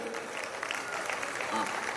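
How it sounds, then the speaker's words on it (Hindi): An audience at a kavi sammelan poetry recital during the Shravasti Mahotsav festival claps in a steady wash of applause, with a voice briefly audible partway through. "आ गया तो एक बार जोरदार तालियां ठोक दे"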